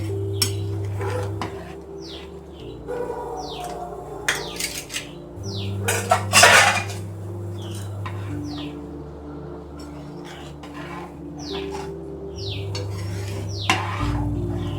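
A spoon stirs tomato bath ingredients in a cooking pot, scraping and clinking in short irregular strokes over a steady background hum and faint chirps.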